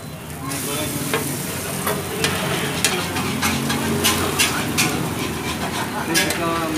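Mie goreng fried noodles sizzle loudly in margarine as they are stir-fried, a dense steady hiss broken by frequent sharp clinks and scrapes of a utensil against the pan, with a quiet voice in the background.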